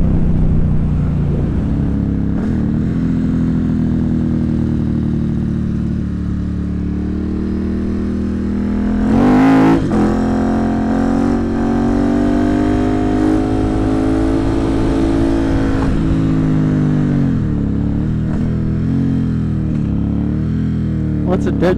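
A motorcycle rides along a rural road, its engine droning steadily close by with a brief louder surge midway, while someone talks over it throughout.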